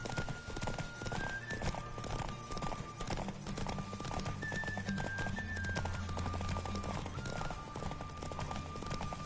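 Rapid rhythmic hoofbeats of a horse galloping in a race in The Witcher 3: Wild Hunt, loud and continuous throughout, with a brief whinny and a music-like tonal layer underneath.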